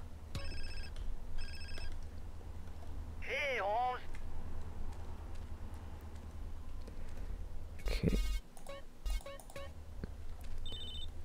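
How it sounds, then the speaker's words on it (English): A phone rings in the video game GTA San Andreas as Caesar calls, with repeated short electronic ring bursts rising over steady game background noise and faint talk. "I'll wait for the phone call from Caesar"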